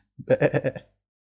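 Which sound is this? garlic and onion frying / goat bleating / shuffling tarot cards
goat bleating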